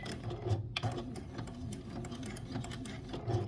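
A sewing machine threaded with red stitches a heart appliqué onto a pumpkin quilt block, a continuous rhythmic mechanical whirring with faint clicks, close by and alone without talk.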